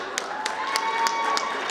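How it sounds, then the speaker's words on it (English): A conference audience claps in a steady rhythm for the Swaziland delegation, each sharp clap evenly spaced over a bed of voices and chanting. "let's clap for Swaziland"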